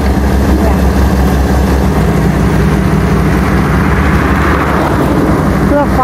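Heavy diesel engine of an excavator climbing onto a ten-wheel truck, a loud, constant low rumble with a rough mechanical edge that continues for the whole stretch.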